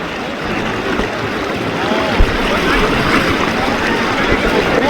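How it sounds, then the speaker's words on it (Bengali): A strong river current rushes at Bholaganj, a loud, continuous roar of flowing water close by, with faint voices in the background. "এখানে প্রচুর প্রচুর পরিমাণে পানি স্রোত"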